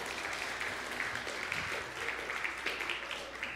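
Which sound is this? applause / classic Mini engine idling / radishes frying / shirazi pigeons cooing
applause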